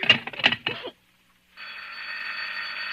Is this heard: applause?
no